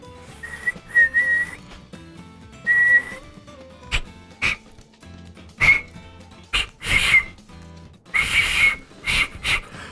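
Someone attempts to whistle, producing several short, thin whistle tones and breathy blows in uneven bursts with pauses between them, close and moderately loud.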